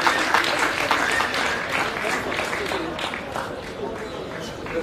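An audience applauds fighter Issam Ziane at a kickboxing belt bout, with dense, loud clapping and crowd noise rolling continuously and easing slightly toward the end.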